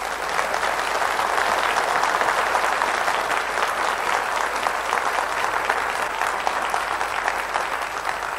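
Sustained applause from a concert audience at a New Year's concert by a chamber orchestra, a thick, even roar of clapping that stays level throughout without pause.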